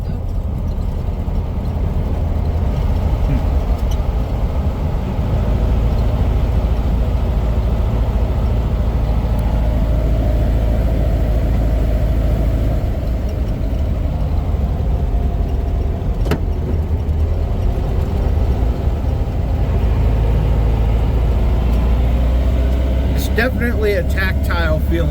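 Karmann Ghia driving on the road, its engine droning steadily throughout with gear changes, and a voice talking over the car noise.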